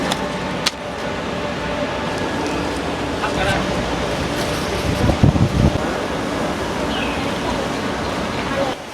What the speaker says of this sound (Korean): 이게 바다 위에 지어진 느낌이어서 막 파도가 치면 물이 막 들어오네요.